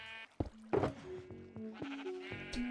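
Sheep bleating at a sheep farm in Minecraft, several distinct bleats in quick succession, fairly close and clear, with no talk over them.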